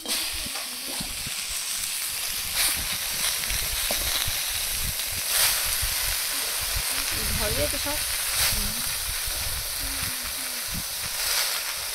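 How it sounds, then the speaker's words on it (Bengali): Leafy greens sizzle and hiss steadily in a hot wok, a continuous frying crackle with occasional stirring scrapes, fairly close and unbroken throughout. "এবার কড়াইতে শাক দিয়ে শাকগুলো কষিয়ে নেব।"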